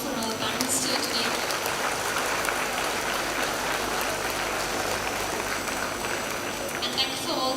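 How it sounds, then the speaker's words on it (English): Audience applause at an International Women's Day celebration, a continuous, full wash of clapping from a large crowd that holds steady throughout, with faint voices underneath. "let's give a wonderful round of applause for our parents here today"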